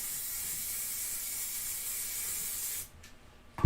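A steady, continuous hiss of spray from a spray bottle lasts about three seconds, then stops abruptly, leaving a quiet room.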